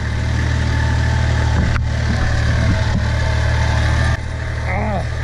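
A tractor engine labors up a nearly vertical country slope, a loud, steady low drone with a strong rumbling hum that dips briefly near the end, while people talk over it.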